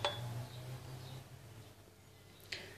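A glass jar holding a powdered remedy gives a faint clink at the start and another a moment later as it is handled, with near silence between.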